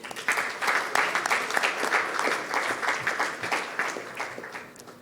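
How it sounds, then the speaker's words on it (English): Audience applause at the AfCoDD III conference closing remarks, a crowd of many hands clapping with distinct individual claps, swelling quickly then slowly thinning toward the end, no talking heard. "we can give each other a round of applause"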